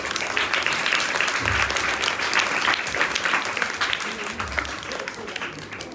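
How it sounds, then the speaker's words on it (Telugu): A children's audience at a Vacation Bible School puppet show claps in a dense, lively burst of applause that carries through the whole stretch, with voices mixed in. "అందరూ ఒకసారి క్లాప్స్ కొట్టండి"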